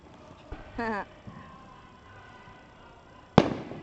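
A sharp firework blast bursts out near the end of a Dallas fireworks show, following an earlier pop and a brief whistling crackle, with faint background noise between.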